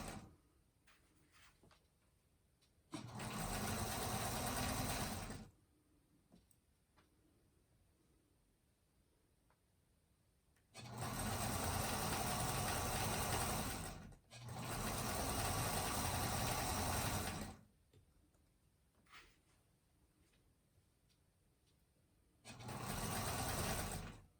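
A sewing machine stitches a fabric table runner in three loud, steady bursts of several seconds each, separated by quieter pauses filled with faint handling noise.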